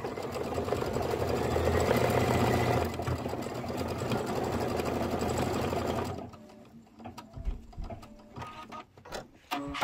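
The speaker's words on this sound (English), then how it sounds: "It's 2 minutes of stitching." An embroidery sewing machine stitching out a design runs as a fast, steady mechanical whir and rattle for about six seconds, then stops, leaving quiet room noise with faint handling sounds.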